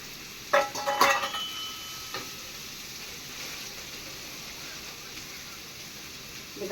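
Snake gourd frying with onion and curry leaves in a pan, a soft steady sizzle with a few sharp clinks of a spoon against metal near the start, then quiet frying alone.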